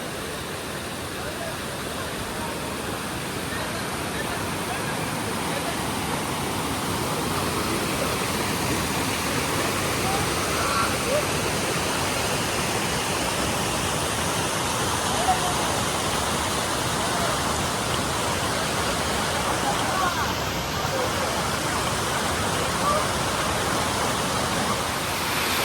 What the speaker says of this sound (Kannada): ನಿಮಗೆ ಮೇನ್ ರೋಡ್ ಪಕ್ಕನೇ ಇದೆ ಫಾಲ್ಸ್